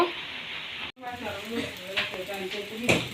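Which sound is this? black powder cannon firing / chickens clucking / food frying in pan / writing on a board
food frying in pan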